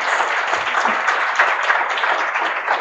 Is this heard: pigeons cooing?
no